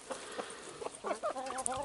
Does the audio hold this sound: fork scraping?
no